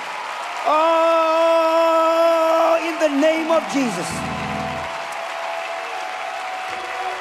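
Large congregation clapping hands at a church camp meeting, a dense steady wash of applause beneath a preacher's loud sustained voice, then continuing more softly.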